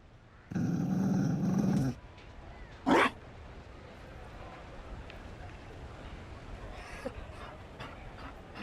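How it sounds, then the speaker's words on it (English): A Mabari war dog in Dragon Age: Inquisition lets out a short burst of growling and breathy panting, followed by a brief sharp yelp-like sound, then quiet ambience with faint scattered noises. "You found a dog? They don't breed Mabari in Olay."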